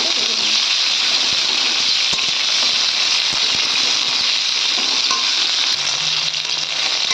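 Drumstick (sajne) stalks fry in hot oil, a loud, steady sizzle that runs without a break, close up, with faint stirring clatter under it.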